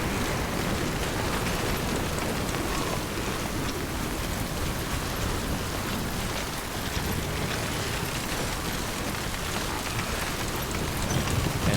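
Steady rain pours down in the video game Death Stranding, a dense, even hiss of drops on surfaces that holds at constant loudness throughout, with no voices.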